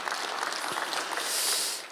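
A church congregation applauds during a Sunday worship service, a steady, dense wash of clapping from many hands that swells slightly toward the end.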